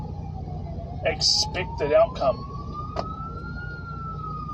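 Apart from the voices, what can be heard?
St. John's ambulance siren passing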